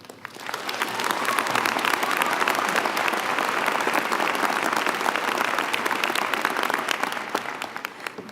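Sustained applause from a large audience at a 2019 art and design college commencement, swelling quickly and holding steady for several seconds before tapering slightly, dense clapping with no voices over it.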